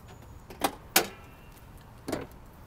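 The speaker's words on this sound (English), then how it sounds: "I'll open the hood so you can see the motor." A 2004 Chevy Suburban hood is opened: a few quiet metallic clicks and clunks of the latch and release, three short sounds spaced over a couple of seconds in a quiet setting.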